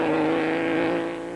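A Nissan rally truck engine at the Carnival City 400 rally, running at a strong, steady drone with rich low harmonics, then easing slightly in level toward the end.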